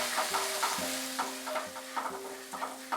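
A ginger paste spice mix with a little water being sautéed in a pan on a low flame, gentle continuous sizzling broken by regular stirring scrapes, close and unaccompanied by speech.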